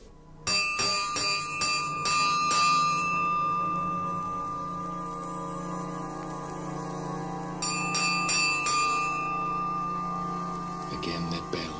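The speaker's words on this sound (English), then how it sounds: "Again that bell, nearer this time" A bell rings repeatedly in strong clanging strikes, with a sustained ringing tone between them and a second burst of strikes later, over a low rumbling background.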